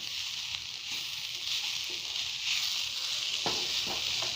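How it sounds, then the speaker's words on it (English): Momo stuffing with spring onions sautés in a pan, a quiet hissing sizzle with a few soft scrapes and stirring knocks near the end and no one talking. "Now saute it."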